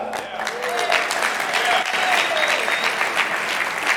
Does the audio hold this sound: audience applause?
yes